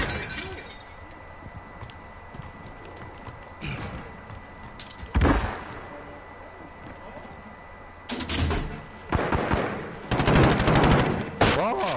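Gunfire in Call of Duty Modern Warfare 2019, with short bursts and sharp shots at about four to five seconds and denser automatic fire from eight seconds onward, set over a steady game background, with brief talk mixed in.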